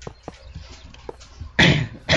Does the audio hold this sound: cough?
yes